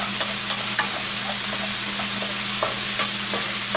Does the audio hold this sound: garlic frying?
yes